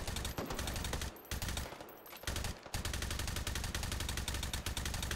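Rapid bursts of automatic gunfire in the VR shooter Hot Dogs, Horseshoes & Hand Grenades, loud and close, firing almost without pause across the whole stretch with a few brief gaps between volleys.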